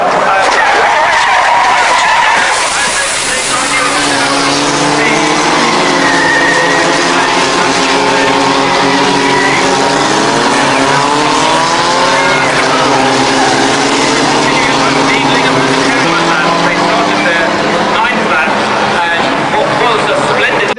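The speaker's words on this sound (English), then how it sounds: "you saw Onslow-Cole collide with his teammate Ben Winrow" Touring cars race through the first corner at Brands Hatch, one driver colliding with a teammate; loud engine roar and tyre squeal fill the clip, with a commentator talking over them throughout.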